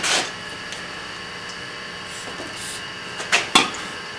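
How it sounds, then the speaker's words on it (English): A spray can of penetrating fluid gives a short hissing squirt in a quiet workshop. Two more quick bursts follow close together a few seconds later, over a faint steady hum. "give it a little squirt of the old penetrating fluid here"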